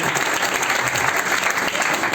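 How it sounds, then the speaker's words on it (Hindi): An audience at a leadership event claps loudly, a dense, even burst of applause that fills the short moment with no voice standing out. "इनके लिए एक बार जोरदार तालियां दीजिए"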